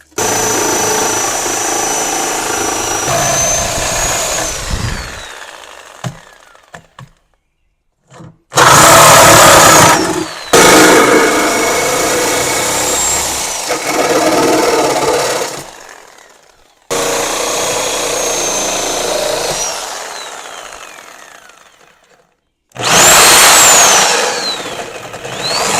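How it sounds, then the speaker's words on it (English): Sawzall reciprocating saw cutting off bodywork at the back of a cheap 2500 HD truck: loud, close, buzzing bursts of rapid cutting, several runs separated by short pauses and silences. "wherever I can reach a Sawzall blade in the back of there is where I'm going to butcher that off in the back"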